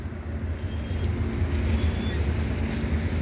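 A car moving steadily during a driving-school lesson in Kuwait, heard from inside as a continuous low engine and road rumble with faint whines, no one speaking over it.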